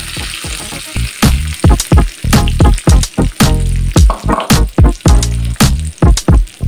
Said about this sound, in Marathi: आता हा तडका आपण या भाजीमध्ये असं टाकून घेऊया